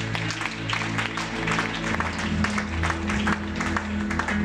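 A church congregation applauds in praise of Jesus, a dense sustained clapping over a low, steady organ or keyboard drone.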